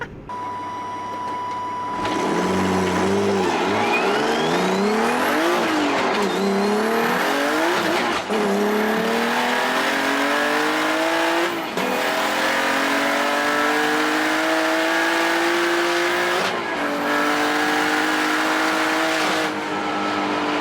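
A turbocharged car running boost at about 26 pounds while racing at an airport, a loud, close engine pulling hard through several rising gear sweeps with brief shift breaks, steady and unbroken by talk.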